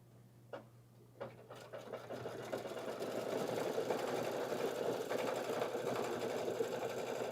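An embroidery sewing machine stitching a fancy fill pattern onto a pouch starts with a few separate clicks, then settles into a fast, steady mechanical chatter at moderate volume.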